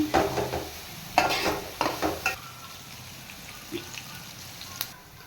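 Onion masala paste with ginger-garlic paste fries in a pan, with a soft steady sizzle and a few louder stirring scrapes in the first half, then a quieter simmering hiss with occasional clinks.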